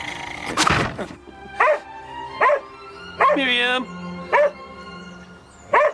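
A dog in a house barks in short, evenly spaced yelps and bow-wows, loud and close, with a brief human call near the start and a held whining yelp in the middle.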